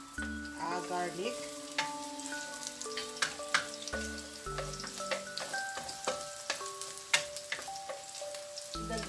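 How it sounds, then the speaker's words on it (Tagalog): Garlic sizzles and crackles in hot cooking oil in a pan while sautéing, the frying texture steady and moderately loud, with occasional utensil clinks and sharp pops, with no talking. "idagdag at igisa natin yung ating garlic"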